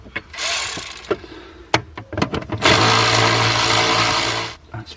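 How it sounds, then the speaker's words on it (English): A ratchet tightens a bolt holding an aftermarket amplifier in a BMW, with scattered close metallic clicks and knocks followed by a steady two-second burst of rapid ratcheting. "Just got to reinstall this bolt down the bottom here."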